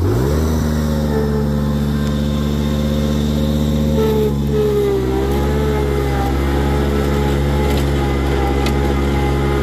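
A Grasshopper riding mower that came through a fire runs steadily near and loud, its engine droning evenly with a slight shift in pitch midway, with no voices.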